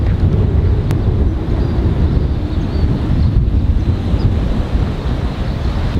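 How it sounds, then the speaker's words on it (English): Wind blows hard across an ocean viewpoint, a steady loud rumble of buffeting against the microphone with the wash of surf beneath it, constant throughout with no voices. "It's kind of windy right now"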